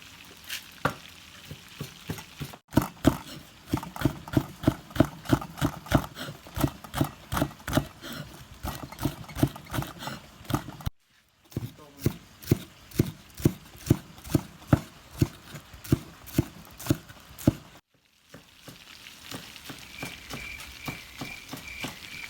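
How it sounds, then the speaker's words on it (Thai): Rapid, rhythmic knife chopping of spring onions and coriander on a cutting board, dozens of sharp close taps in quick bursts with short pauses between. "มาหั่นต้นหอมผักชีรอ"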